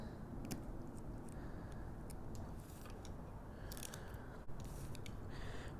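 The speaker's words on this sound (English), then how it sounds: "so I'm just going to trim as I see fit." Scissors trim glitter washi tape, several faint, crisp snips scattered over a steady background hiss, close by and with no talking.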